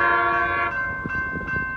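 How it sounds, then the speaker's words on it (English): Amtrak San Joaquin passenger train 712 to Bakersfield passing at a road crossing, its horn sounding a loud sustained chord close by over rumbling rail noise. "here comes San Joaquin train 712."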